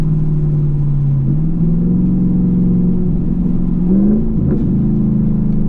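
Chevrolet Camaro engine fitted with an MRT off-road H pipe, held at full throttle, a loud, close, continuous droning exhaust with rising and dipping pitch as revs change, no voices.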